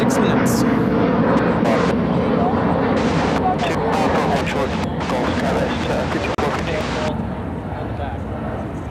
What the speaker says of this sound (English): The A332 coming in from Rome, next to Bravo, there on the north side